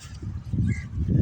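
Goose-like honking calls from a flock of birds, a steady run of overlapping nasal honks fairly close and moderately loud, with no talk over them.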